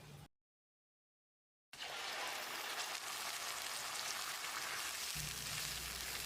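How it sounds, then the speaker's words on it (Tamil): Tomato paste cooking down in a hotel-style chicken salna gravy, a dense, steady sizzle and bubble close by after a brief silence, continuing evenly with a low rumble joining near the end. "தக்காளியோட பச்சை வாசனை போகிற அளவுக்கு ஒரு 2-3 நிமிஷம் கொதிக்கட்டும்."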